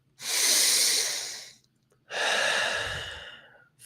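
Two long, deep breaths during a breathwork session, each a loud airy rush lasting about a second and a half with a short pause between, close to the listener and without talk.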